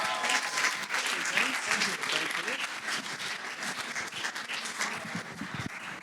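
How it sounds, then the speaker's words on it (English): A conference audience at a sales event applauds speaker Jamie Tweddell, Sales Development Director: sustained, dense clapping from a sizeable crowd, steady and fairly loud throughout with a few voices mixed in. "So we can have a round of applause for Jamie."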